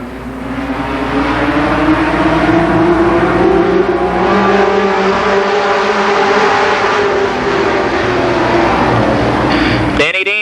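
Mini stock race cars roar around an oval speedway at Columbus Motor Speedway, loud engines revving and droning as the pack moves down the backstretch, with an announcer talking over the racket.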